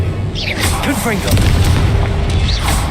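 Confringo fire spell explosions in the video game Hogwarts Legacy, a loud continuous booming blast with crackling bursts and whooshing magical effects, dense and close throughout.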